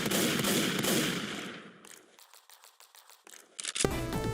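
Tactical shotgun fired in Left 4 Dead 2: a loud opening burst of blasts gives way to a quick series of sharper, separate shots and mechanical clacks, ending in one more heavy report.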